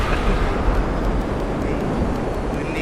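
A military airplane roars in Grand Theft Auto V with a dense, steady rumbling engine wash under a voice.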